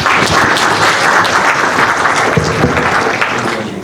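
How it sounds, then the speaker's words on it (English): A conference audience at a technology talk gives a loud, dense round of applause, a steady wash of clapping that holds for the whole stretch and eases slightly at the end, with no voices over it. "Please give another round of applause."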